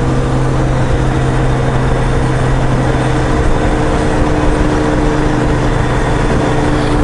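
A Voyager motorcycle engine fitted with an aftermarket Super Trap exhaust runs at a steady, low-pitched drone, close and loud, with a constant rumble and no break throughout.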